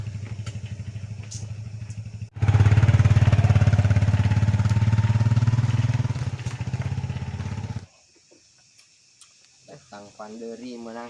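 Cheap old motorcycle in poor condition, used for ojek work, idles with a steady putter, then revs loudly for several seconds before cutting off abruptly; people talk once the engine stops.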